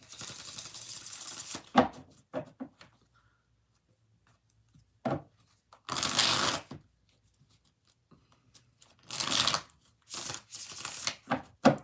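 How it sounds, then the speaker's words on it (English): Bursts of tarot cards being shuffled, several separate riffling bursts of a second or so each, separated by quiet pauses, close and fairly crisp. "Three more shuffles."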